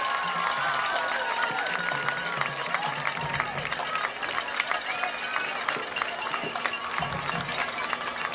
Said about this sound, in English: And finally, a big round of applause for our senior football